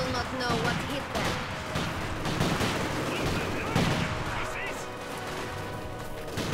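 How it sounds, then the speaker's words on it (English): Dense machine gun fire in a Company of Heroes 2 winter defense battle, a steady chatter of bursts running throughout and mixed with battlefield noise and talk. "They got machine guns?"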